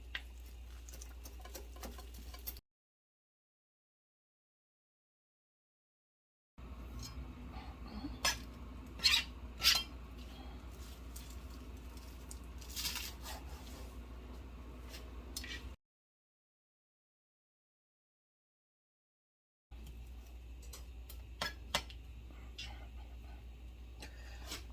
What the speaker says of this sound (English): Now we have some parsley that we're also going to cut up.